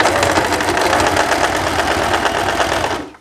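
A sewing machine runs steadily, topstitching two layers of thin fabric for a wrap blouse with a tie, a dense continuous mechanical whir for about three seconds before stopping abruptly.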